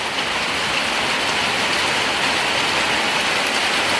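Heavy rain pours down in a dense, constant hiss, loud and unbroken throughout.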